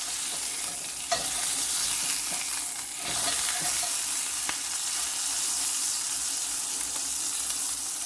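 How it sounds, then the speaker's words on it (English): Beef tenderloin for beef Wellington sears in hot cooking oil, giving a steady broadband sizzle and crackle that holds throughout, with a few brief clatters of stirring or handling. "We're just going to get a char or a sear onto this beef Wellington piece of meat."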